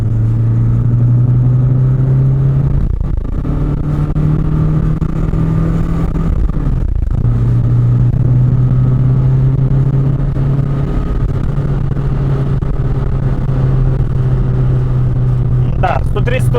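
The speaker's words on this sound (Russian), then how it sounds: "После 3 сразу машина рванула вперед." An Audi A6 C4 quattro with a large turbo accelerating hard, its engine a loud, close, sustained drone that drops briefly twice as it shifts gears, then pulls strongly again.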